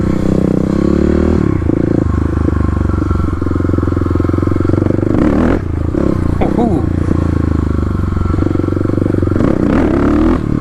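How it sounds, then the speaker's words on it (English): A Kawasaki KLX351 motorcycle pops a power wheelie over curbs in a parking lot, its engine loud and close throughout, with clattering bumps and surges as the bike rides over the edges. "Getting a little power wheelie over the curbs there."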